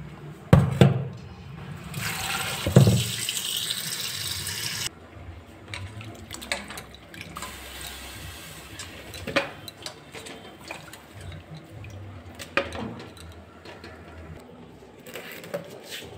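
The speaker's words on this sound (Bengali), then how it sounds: "তো এটা আমি প্রথমে জল দিয়ে ধুয়ে নিচ্ছি।" Goat meat, about 350 grams, rinsed with water in a home kitchen: splashing and running water with a bright, steady rush for a few seconds, then softer dribbles, handling clatter and a few sharp knocks.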